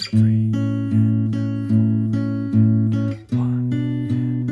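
An acoustic guitar fingerpicks a song's pre-chorus pattern in an A-shape position. The notes ring out in a steady, even picking rhythm that shifts to a new chord near the end. The guitar is close and clear, and a voice counts along quietly.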